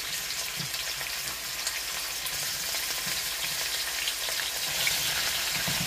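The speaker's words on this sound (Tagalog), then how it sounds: "And then ilagay na natin ang chicken breast." Chicken breast hits hot oil with garlic and onion for chicken pancit gisado, producing a loud, steady sizzle close up, with occasional stirring scrapes and no voices over it.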